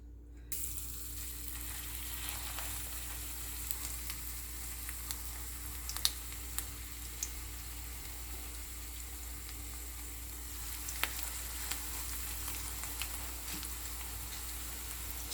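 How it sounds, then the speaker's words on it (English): Tuna and corn fritters frying in oil give a steady, close sizzle that runs unbroken, with faint scattered ticks and pops from spitting oil and no talking. "Okay, I'm going to fry now"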